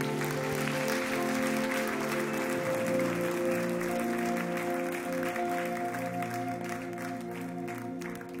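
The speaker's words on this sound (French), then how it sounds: "je t'invite juste à applaudir le Seigneur" A church congregation applauds during a worship service, clapping spread over sustained music with held tones, continuing at an even level for several seconds.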